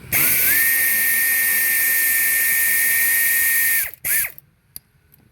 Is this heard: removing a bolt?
yes